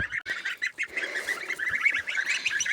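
Goslings peep and cheep in rapid, high chirps at a newly placed water drinker, several birds close together chattering continuously.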